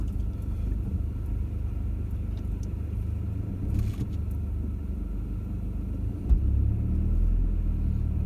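A car creeps slowly through shallow water on the high ground, giving a steady low engine rumble with a slight swell near the end, heard close and without any voices.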